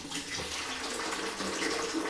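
Water pours into a bucket of Johnstone's paint for mist coating a newly plastered bathroom, a steady close splashing gush that runs continuously.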